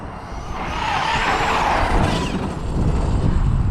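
A Traxxas Super XRT RC truck with a Hobbywing Max5 system drives past outdoors, a rising whine and tyre scrub swelling to a peak and fading, then more rolling noise as it continues on.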